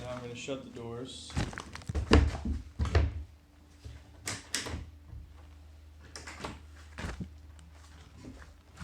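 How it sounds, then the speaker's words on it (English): Doors of a foam-lined isolation box for a combo guitar amplifier shutting, several heavy thunks and knocks spread over several seconds, close by, with a person talking and handling sounds in between. "now I'm going to shut the doors"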